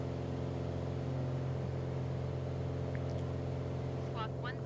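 A propeller aircraft engine drones steadily at about 2,400 rpm during a climb in Microsoft Flight Simulator, a constant tonal hum throughout with a few faint chirps near the end.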